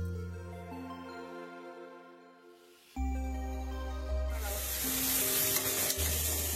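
Washed spring onion stalks are stirred into a pan over a low gas flame, setting off a loud, steady sizzle and hiss of frying that surges partway through and keeps crackling to the end.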